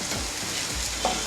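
Chopped ginger and garlic sizzle steadily in a hot pan while being stirred for a mushroom biryani, a close continuous crackle with a brief scrape near the end.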